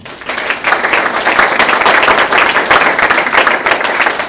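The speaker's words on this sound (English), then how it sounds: "So can we give them another round of applause?" Round of applause from an audience at a summer enrichment program presentation, loud, dense clapping that swells quickly and stays steady throughout.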